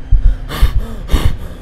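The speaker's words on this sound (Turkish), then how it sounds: "Niye nefes alıyorsun da o yüzden soruyorum yani." A creature in Minecraft breathes heavily and close, two loud raspy gasping breaths with snorting edges, separated by quieter low pulsing.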